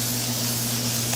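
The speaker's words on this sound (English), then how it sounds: "We're gonna spray this again" Cooking oil sprayed into a springform pan in a kitchen, a single steady aerosol hiss lasting about a second over a faint low hum.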